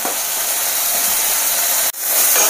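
Spice masala frying in a pan for Bengali niramish ghugni, with water poured in, giving a loud steady hiss of sizzling that briefly cuts off near the end before surging back.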